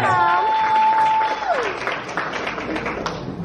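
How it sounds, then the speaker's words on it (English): A crowd applauds a woman at a celebration event, with a steady wash of clapping under a sustained tonal whistle or feedback note at the start that slides away, then the applause continues evenly. "Give her another round of applause"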